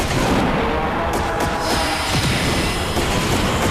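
Booming cannon fire during a battle in the video game Trails in the Sky SC, loud and continuous, with heavy blasts rolling one into another.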